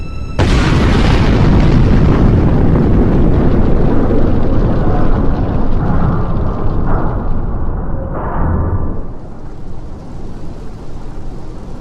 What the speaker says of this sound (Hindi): इन्हीं इवेंट्स में वो कलाहन ब्रिज को उड़ा देती हैं